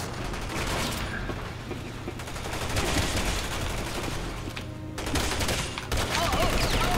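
Sustained gunfire in Resident Evil 6 forms dense rapid automatic bursts with booming impacts, loud and nearly continuous throughout, with a voice faintly under the shooting.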